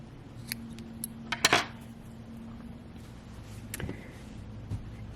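Scissors cut the yarn tail of a knitted honeycomb-stitch cowl, giving a few faint, close snips and light metallic clicks in a quiet room.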